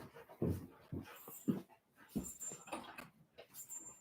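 Dogs whimpering and panting indoors, short whiny bursts and breathy sounds at close range, fairly quiet with pauses between them.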